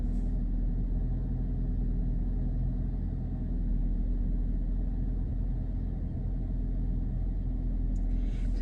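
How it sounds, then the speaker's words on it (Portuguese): Car engine idling steadily while warming up, a constant low rumble with a faint hum that holds evenly throughout, close by and alone. "Tô esperando o carro aquecer aqui um pouquinho."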